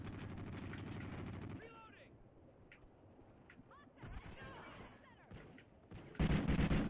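Rapid gunfire bursts from the video game Call of Duty Ghosts, loud and dense at the start, then quieter scattered shots and game effects, ending with another loud burst.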